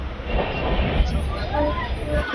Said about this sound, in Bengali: আমাদের ট্রেন এক্ষুনি পৌঁছে যাবে সাঁতরাগাছি স্টেশন